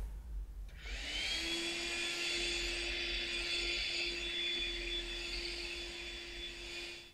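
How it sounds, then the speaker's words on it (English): A vacuum cleaner starts up and runs steadily over carpet, vacuuming up baking soda, with a high whine and a low motor hum, fairly close, with no talking. "We're gonna vacuum it up."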